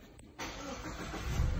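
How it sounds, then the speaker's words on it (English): A car engine cranks and catches after a short pause, then settles into a steady idle with a broadband rumble that slightly swells toward the end, heard close and without talk. "Turn the car on"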